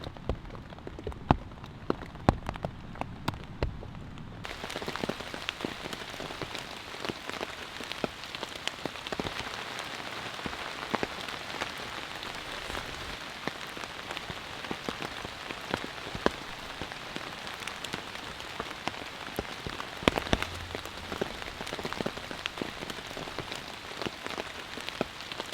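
Rain falling on a Catoma Stealth 1 tent, a dense, continuous patter of drops drumming on the fabric with scattered sharper hits, steady throughout.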